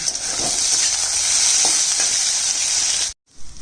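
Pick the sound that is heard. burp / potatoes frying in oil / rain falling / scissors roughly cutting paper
potatoes frying in oil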